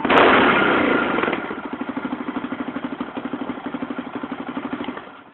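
A quad bike engine blips with a loud throttle burst, then settles into a fast, even idle chugging close by until it cuts off.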